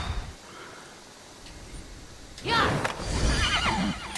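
A horse in the video game Immortals Fenyx Rising lets out a loud, shaky whinny over a low ambient game background, close and prominent near the end.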